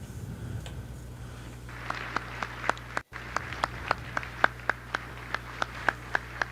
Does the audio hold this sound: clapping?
yes